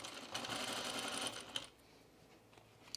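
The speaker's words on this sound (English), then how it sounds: "let's edge stitch this" A sewing machine edge stitches a cream 1930s-style blouse with a size 14 needle, running in one steady burst for over a second, then stopping and leaving faint handling noises and a couple of small clicks.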